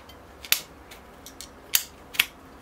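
Sharp snips through thick bald cypress bonsai roots while repotting, three or four crisp, close cutting clicks separated by short quiet gaps.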